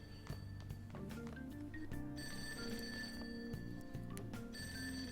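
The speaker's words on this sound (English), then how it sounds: "because the phone's ringing" A telephone rings in the Persona 5 video game, a repeated electronic bell tone over layered game music, steady and moderately loud with no talk.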